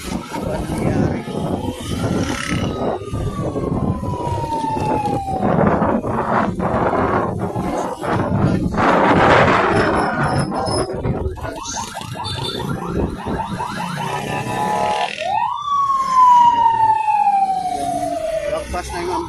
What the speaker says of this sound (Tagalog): Lagpas na yung ambulansya guys.